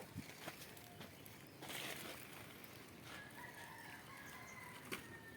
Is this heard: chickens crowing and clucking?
yes